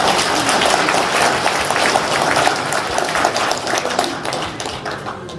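Audience applause at a clan association's extraordinary general assembly, a dense, sustained wash of many hands clapping in a hall, loud and steady before tapering slightly toward the end.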